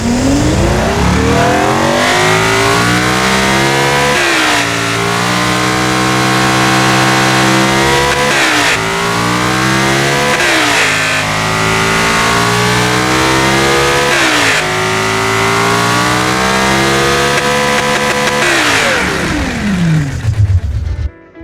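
Simulated high-end car engine in the Automation game, built with titanium connecting rods and a billet steel crankshaft, revving loudly in repeated climbing sweeps through the gears, then cutting off abruptly at the end.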